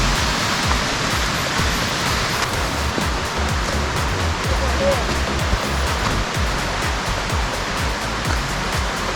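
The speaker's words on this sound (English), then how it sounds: "I mean the river, the water." River water rushes near Conasauga Falls, a loud, constant broadband roar close by that stays steady throughout and masks any other detail.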